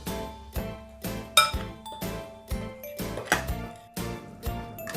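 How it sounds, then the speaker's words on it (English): Cinnamon powder and plain flour are stirred together in a bowl for a carrot cake batter, with a utensil clinking against the bowl in a steady rhythm of repeated close taps and scrapes. "cinnamon powder, and the plain flour, you have to mix it very well."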